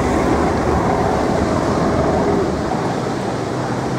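A boat engine rumbles loud and steady as the boat pulls away along the Ligurian coast between Genoa and Portofino, with a broad wash of water and wind noise.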